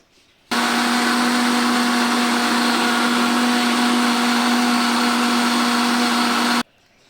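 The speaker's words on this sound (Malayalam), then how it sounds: "ഇനി നമുക്കിത് അരച്ചെടുക്കാം" A kitchen mixer grinder grinds grated coconut with garlic, cumin and water into a paste, starting abruptly and running as one loud, steady whirring drone for about six seconds before cutting off.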